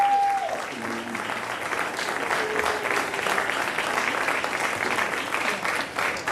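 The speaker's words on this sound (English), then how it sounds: "So let's have a round of applause for Steve Luth as he organizes." An audience claps steadily at a university spring pops concert, a dense, sustained wash of applause that fills the room for several seconds without letting up.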